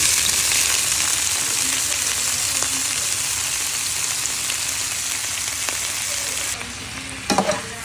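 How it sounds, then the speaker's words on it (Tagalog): Vegetables sauté in a hot pan after shrimp for bihon guisado, a steady loud sizzle running throughout with a brief stirring clatter near the end. "Igisa po natin siya hanggang maging half cook"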